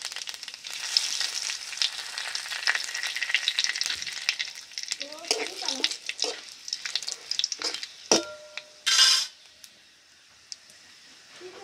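Two dried red chillies and a bay leaf frying in hot oil, a steady close sizzle with stirring scrapes and a few sharp crackles near the end.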